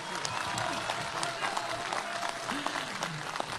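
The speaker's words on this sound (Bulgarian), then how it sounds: "Още веднъж аплодисменти за товарищ Карпов." A crowd at a Bulgarian political gathering applauds former world chess champion Karpov, a steady wash of distant clapping with voices mixed through it.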